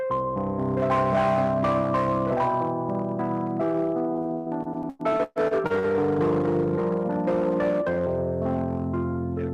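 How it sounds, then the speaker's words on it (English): A Wurlitzer portable electric piano plays chords and melody with a warm, slightly distorted, echoing tone, briefly cutting out midway before continuing. "it was a Wurlitzer portable piano"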